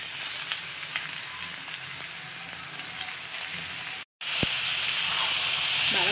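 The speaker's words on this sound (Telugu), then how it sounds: "ఇప్పుడు లైట్గా వేగిన తర్వాత చిక్కుడుకాయ వేసుకోవాలి." Broad beans frying in a pan with green chillies and onion give a steady, moderate sizzle that cuts out for a moment, then returns louder and brighter with a crackling hiss.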